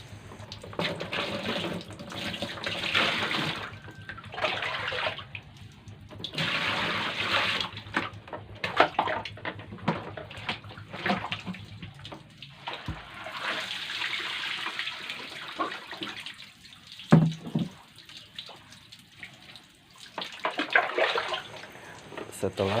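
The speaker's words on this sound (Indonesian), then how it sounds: "Setelah kacang kedelai semua kita tiriskan, lalu kita bilas dengan air bersih." Boiled soybeans being rinsed with clean water while making tempe: running and splashing water comes in uneven bursts, with a person talking at times.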